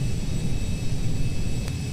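A Cessna Citation 525A CJ2 jet engine in a flight simulator hums as a low, steady drone with a thin high whine over it, close and constant with no talking.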